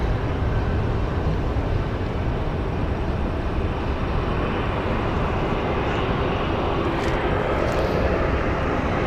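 A JetBlue airliner in Boston Red Sox livery moves at Phoenix Sky Harbor Airport, its engine rumble a continuous broad roar that holds level throughout, with no talk.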